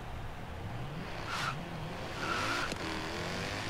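A car engine revs in Forza Horizon 3, a faint low drone rising into two brief swells with a sharp pop near the end, heard without talking.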